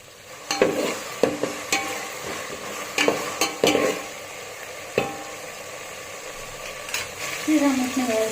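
Ginger garlic paste hitting browned onions in a biryani pot, sizzling while a spoon scrapes and stirs in irregular clacks, with the fry swelling louder near the end.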